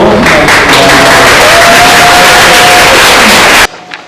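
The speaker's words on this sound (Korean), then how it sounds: "손재익 목사님 박수로" A church youth retreat crowd claps and cheers to welcome a pastor, a loud, dense burst of applause that fills the room and then cuts off abruptly near the end.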